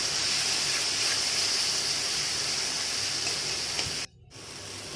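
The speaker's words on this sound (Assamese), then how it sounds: "বিলাহীখিনিতে মিলাই ল'ম, অকণমান ভাজি লৈছোঁ এনেকৈ" Chopped tomato frying in mustard oil gives a steady, close hiss and spatter that keeps going, then breaks off sharply for a moment near the end before starting again more quietly.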